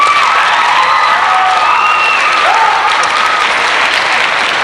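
A jazz concert audience applauds for a birthday, dense sustained clapping filling the hall at steady loudness, with light cheering and a few voices mixed in.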